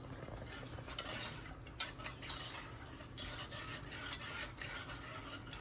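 Cornstarch and water mixture stirred in a pot for lemon meringue pie, repeated close scraping and clinking of a utensil against the pan in an uneven rhythm over low background noise, no talk.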